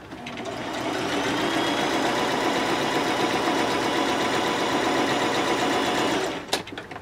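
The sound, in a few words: sewing machine stitching quilt fabric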